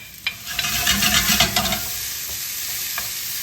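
Shrimp, carrots and mixed vegetables stir-fried in a pan at home, with a steady close sizzle and bursts of scraping and stirring, louder early on and easing into a softer hiss with a few sharp clicks.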